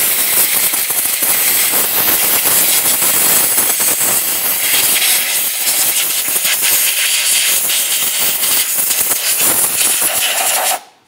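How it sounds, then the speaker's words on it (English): Compressed air hisses in a loud, continuous blast to clear debris off the valve cover of a 2.5L Nissan Altima engine, stopping abruptly at the end. "We'll use some compressed air."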